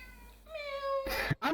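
A pet cat meows indoors, one drawn-out, rising and falling meow up close, followed by a couple of brief louder noises.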